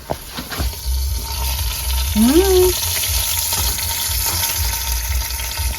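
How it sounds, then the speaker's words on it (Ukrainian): Potatoes with lard sizzle in a tandoor with a steady, close hiss while someone hums appreciatively once over the crackle. "В тандирі в нас уже шкварчить."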